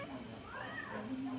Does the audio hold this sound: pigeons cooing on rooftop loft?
no